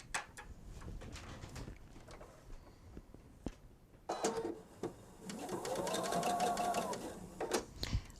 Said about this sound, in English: when you start sewing, you usually start sewing a little bit in